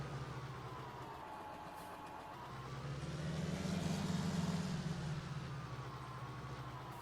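A tractor engine runs steadily in a farming video game, a continuous low mechanical drone that swells louder mid-way as the machine works, then eases back to a constant idle-like hum with no talking.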